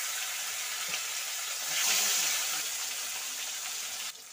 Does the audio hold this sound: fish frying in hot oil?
yes